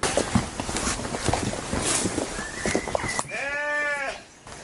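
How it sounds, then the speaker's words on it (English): A sheep lets out a loud, wavering bleat near the end, preceded by several seconds of rustling movement and scattered footsteps on a farm, with no speech. "The sheep are telling them where."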